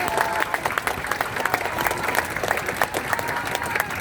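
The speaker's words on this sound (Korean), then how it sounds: "시민 여러분, 서로를 보면서 당신 참 장합니다 이렇게 박수 한번 보내주세요." A crowd at an outdoor Democratic Party campaign rally in Jinju, South Korea, breaks into steady, dense applause with scattered sharp claps, close and continuous throughout.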